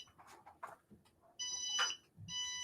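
Electronic warning beeps from an appliance in a sewing room, two sustained high tonal bursts after brief talk, fairly close and clear.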